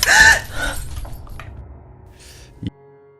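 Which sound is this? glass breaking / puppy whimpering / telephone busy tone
glass breaking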